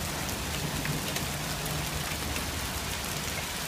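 Hail and heavy rain pelting down during a thunderstorm in Vestal, New York, a dense, steady, loud patter and hiss of drops striking surfaces with no breaks.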